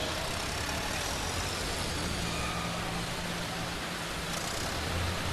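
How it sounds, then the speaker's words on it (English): Pulling tractor engine losing boost at a farm machinery show, a loud, continuous broadband roar that holds steady throughout, with no distinct change marking the drop. "Tractor just lost the boost right there."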